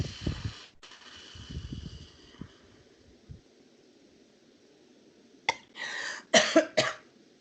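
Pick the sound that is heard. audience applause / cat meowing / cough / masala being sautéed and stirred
cough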